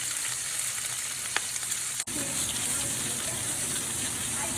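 Porterhouse steak searing in a hot pan, a steady loud sizzle and crackle of frying that runs the whole time, broken by one brief dip partway through.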